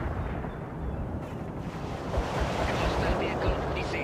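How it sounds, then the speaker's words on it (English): Artillery barrage in the World in Conflict strategy game, a dense roaring rumble of continuous explosions that swells louder partway through and holds steady, with no clear gaps between impacts. "Target pinpointed. Commence artillery strike."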